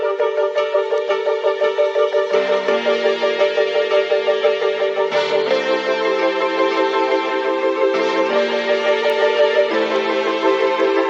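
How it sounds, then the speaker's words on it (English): Piano sample track from a beat, playing sustained chords in a steady looping pattern with rhythmic pulses, bright and loud, with chord changes every few seconds and no other sounds. "we have the sample, which is this like piano track right here."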